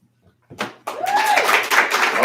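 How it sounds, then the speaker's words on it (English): Audience clapping for a poet at a poetry reading night: after a quiet start and a couple of early claps, applause swells into steady, dense clapping from a room of listeners, with a voice briefly heard over it. "All I just said, keep clapping."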